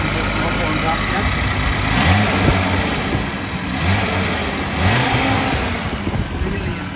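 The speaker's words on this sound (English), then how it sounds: "The engine runs beautiful." A 1971 Datsun 240Z Series I coupe engine, not yet warmed up, runs loud and close, rising and falling through several revs over a rough, steady idle.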